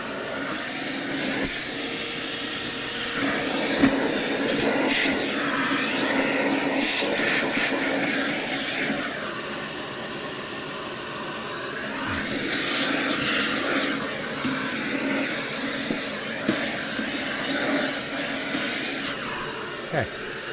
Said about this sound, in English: let's go on and vacuum that all out.